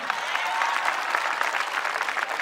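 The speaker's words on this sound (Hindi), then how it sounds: "मुझे लग रहा है तालियों की आवाज कम हो रही है" A crowd applauds at a speech event, steady dense clapping, loud and continuous throughout with no voices on top.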